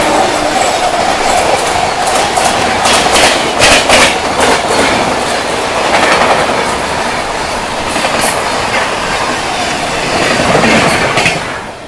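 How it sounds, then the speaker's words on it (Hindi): Sachkhand Express passenger train from Amritsar to Hazur Sahib Nanded passing close by, a loud steady roar of wheels with rhythmic clickety-clack rail joints and faint flange squeal throughout. "सामने से आ रही है अमृतसर से चलकर हुजूर साहिब नांदेड़ की ओर जाने वाली सचखंड एक्सप्रेस"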